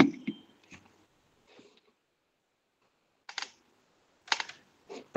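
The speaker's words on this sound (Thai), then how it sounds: "แป๊บหนึ่งนะครับแมวเหยียบคีย์บอร์ดนะ" A cat steps across a computer keyboard, producing scattered soft key clacks in small irregular bursts separated by quiet gaps, close and fairly faint.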